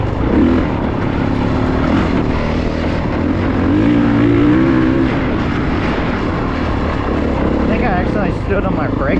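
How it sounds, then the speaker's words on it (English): A motorbike rolls downhill on a rough track and rattles loudly, its engine and wind roar filling the recording at close range while a rider speaks over it. "it sounded like the freaking bike was about to fall apart"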